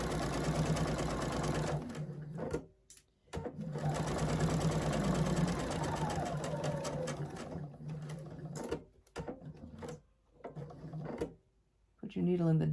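A sewing machine stitching a quilt, a close steady mechanical whir running in long bursts with brief stops, a voice speaking between runs.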